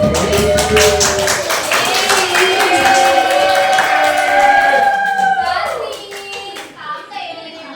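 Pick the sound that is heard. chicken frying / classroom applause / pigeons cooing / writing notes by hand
classroom applause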